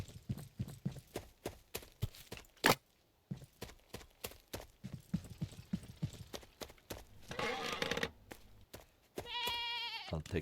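Goat bleating in a car repair video game, brief wavering bleats near the end following a stretch of rapid clip-clop-like tapping and shuffling game sounds.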